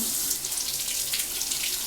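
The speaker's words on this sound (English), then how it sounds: "I have my sink running now" Water runs from a tap into a sink in a steady, close splashing hiss, unbroken from start to finish.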